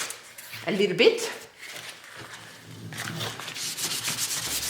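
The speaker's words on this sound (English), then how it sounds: "I think I'll just hand sand them a little bit" Small wooden intarsia pieces being sanded by hand, giving a soft rubbing, scratchy sound in uneven strokes up close, with some background noise and possible voice.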